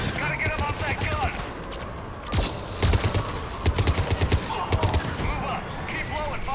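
A mounted gun in Mass Effect 3 fires in loud, rapid bursts, clusters of sharp shots spread across the scene with brief lulls between, while voices talk over the combat.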